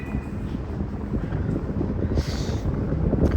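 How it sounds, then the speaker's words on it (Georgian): Wind gusts buffet the microphone outdoors in a town square, a loud continuous low rumble with no voices. "ცოტა ქარია"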